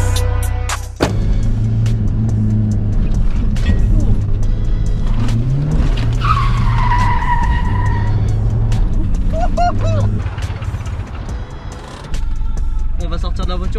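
Underpowered car drifting, tires squealing in rising and falling skids over a loud, close engine roar, with people talking throughout.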